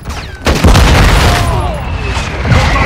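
Airstrike explosions in a Call of Duty battle, heavy booming blasts and rumbling detonations rolling one into another over a few seconds, loud and close with a voice speaking over them.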